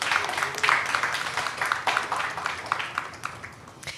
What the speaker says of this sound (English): Let's give a huge round of applause to Nachiket.